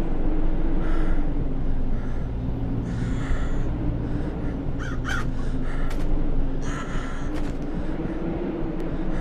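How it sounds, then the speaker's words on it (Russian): Crows cawing in the video game Fibrillation, several harsh caws scattered over a steady low droning ambience, moderately close and without speech. "Птицы, уйдите."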